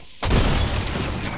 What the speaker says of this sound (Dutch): Ik ga granaten naar binnen gooien.